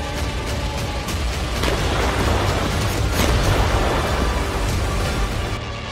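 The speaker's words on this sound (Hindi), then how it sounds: "इस वीडियो में ज़ेलेंस्की को डराने वाला बहुत बड़ा धमाका है।" A large explosion in war footage from the Russia–Ukraine war, a dense, sustained roaring rumble with booming bursts filling the whole stretch, loud and continuous with no speech.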